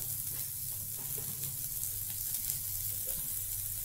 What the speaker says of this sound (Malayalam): നമ്മൾ ഫ്ലെയിം കുറച്ച് വെച്ചിട്ട് 5 മിനിറ്റെങ്കിലും വഴട്ടി എടുക്കണം.